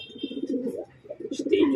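A racing pigeon coos in a soft, rolling series of low throaty calls, close by, with a brief pause midway and a faint chirp near the end.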